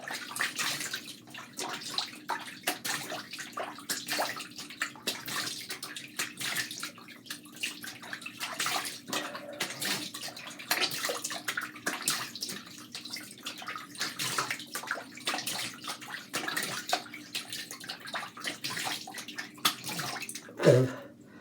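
Running water pours steadily from a tap while soap is rinsed off a face, a continuous close splashing with small irregular splatters and a brief knock near the end.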